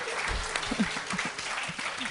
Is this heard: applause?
yes